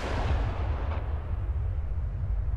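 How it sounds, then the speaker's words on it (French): A single gunshot in the opening of the film La Haine, a loud low boom with a sharp crack at the start and a rumbling tail that dies away alone over a couple of seconds. "Le bruit d'un coup de pistolet retentit"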